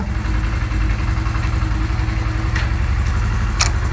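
Honda CD 70 motorcycle engine idling close up, a steady low, rapid thumping pulse running without pause, with a couple of faint metallic clicks.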